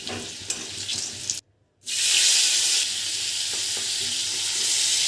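Spices sizzle in hot mustard oil for a Bengali prawn curry, a loud steady frying hiss that cuts out briefly and then returns stronger, with faint stirring clinks.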